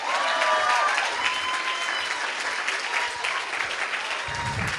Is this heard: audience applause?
yes